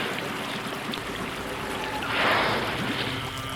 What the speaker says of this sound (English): From afar, the sound of waves hitting the shore